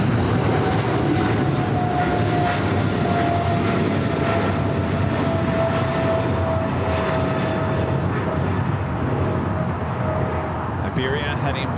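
An Iberia Airbus A350 airliner at LAX, outbound for Madrid, gives a loud, steady jet engine roar that holds throughout with a faint tonal whine, while radio chatter and talk run underneath.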